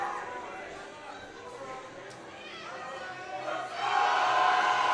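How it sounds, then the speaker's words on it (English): Crowd cheering and shouting at a high school powerlifting nationals meet, a steady roar of voices that swells louder near the end. "The crowd is getting really, really hype here"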